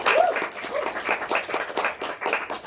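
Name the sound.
audience applause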